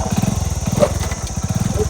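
Motorcycle engine running close by with a rapid, even putter of firing pulses and no voices.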